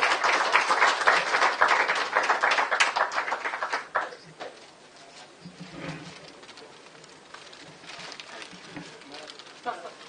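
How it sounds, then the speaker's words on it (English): Dense clapping from a crowd fills the first few seconds, then thins out into scattered claps over a quieter room. "So a big applause to Anuradha for"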